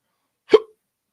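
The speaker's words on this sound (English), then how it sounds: "Excuse me for the hiccup there." A single short hiccup, close and fairly loud, standing alone in otherwise quiet surroundings during an outdoor winter outing.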